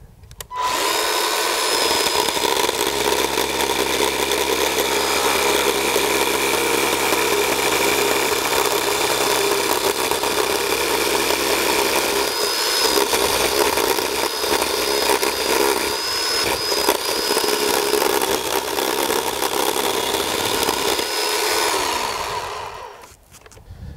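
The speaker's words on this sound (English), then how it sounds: "I'll be able to follow that down with a chainsaw." A chainsaw cuts down a groove in wood while a bonsai is being shaped with power tools, a loud, steady engine whine held close for about twenty seconds with small dips in pitch under load, then dying away.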